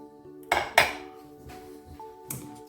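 Bowls and dishes clink and knock together in a kitchen as a bowl is taken out for a cream, with several sharp clattering hits spread out over a quiet background.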